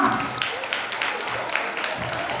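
Audience clapping at a kindergarten annual prize day, a scattered patter of many hands that carries on steadily at moderate volume, with faint voices mixed underneath.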